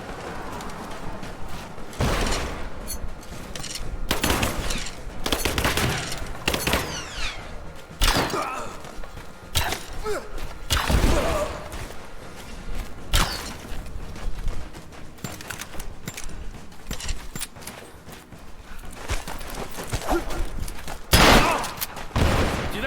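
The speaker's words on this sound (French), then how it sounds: "Des coups de feu!" Repeated bursts of gunfire in the video game Rise of the Tomb Raider crack out across a constant noisy backdrop, some volleys loud and close, others more distant.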